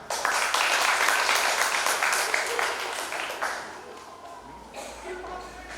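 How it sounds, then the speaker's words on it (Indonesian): Guests at a wedding reception break into applause, dense clapping that holds steady for several seconds before thinning out and fading as background chatter carries on. "Tepuk tangan."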